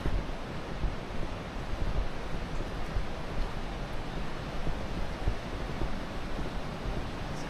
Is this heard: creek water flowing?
yes